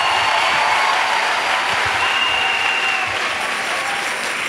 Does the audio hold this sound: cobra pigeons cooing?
no